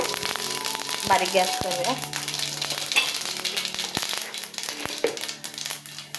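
Mustard seeds spit and crackle in hot oil in a pan, a dense, continuous sizzle with small pops, while someone speaks over it.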